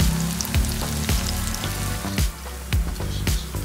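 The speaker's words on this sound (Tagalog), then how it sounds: "Magpainit ng mantika, iprito ang square na tokwa hanggang maging golden brown." Square tofu pieces fry in hot oil with a dense, steady sizzle, close and loud, punctuated by soft thumps and clinks of the pieces being turned in the pan.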